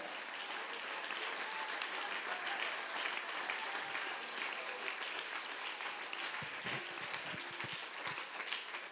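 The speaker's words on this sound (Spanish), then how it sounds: "Aplausos para el Rey de Gloria." Congregation at a church service applauding steadily throughout, a loud, dense wash of clapping from a large crowd with no talk.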